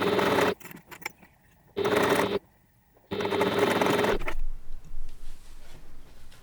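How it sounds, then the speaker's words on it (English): A sewing machine runs a long basting stitch along a zip on a backpack, whirring in three short bursts separated by quiet pauses, then a softer hum. "I'm going to stitch just straight across there, basting stitch close to the edge just to hold it on"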